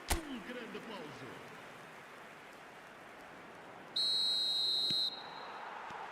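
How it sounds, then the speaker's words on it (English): A referee whistle starts the second half of a football video game. It gives one steady, fairly loud blast lasting about a second, sounding alone over a soft crowd murmur. "Whistle goes and we start the second half."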